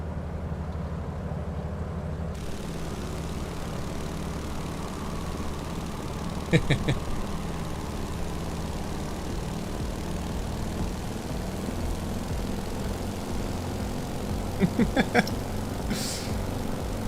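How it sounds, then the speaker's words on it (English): Beechcraft Model 17 Staggerwing propeller engine in Microsoft Flight Simulator, a steady, even drone that holds at constant loudness throughout, with two short clicking bursts near the middle and the end. "Coming in for some formation flying, Gaming Dad."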